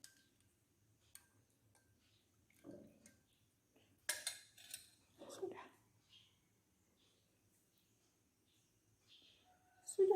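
A spoon stirs a homemade drink of kencur, ginger and turmeric, giving a few light, scattered clinks with quiet gaps between them and brief soft voice sounds.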